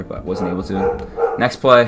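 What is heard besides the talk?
dogs barking in the background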